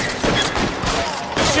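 Gunfire in the video game L.A. Noire, a rapid volley of loud, close shots in bursts, with a short pause in the middle.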